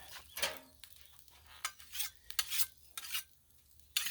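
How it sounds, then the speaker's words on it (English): A spatula scrapes and stirs shrimp scampi across a Blackstone griddle in a run of short, close metallic scrapes with a light sizzle beneath, spaced irregularly over a few seconds. "Give it a little stir here."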